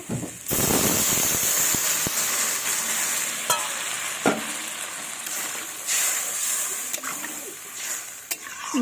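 Water hits a hot pan of frying spices for a fish and eggplant curry with a loud burst of sizzling, then keeps up a steady crackling hiss broken by scattered pops and stirring clinks.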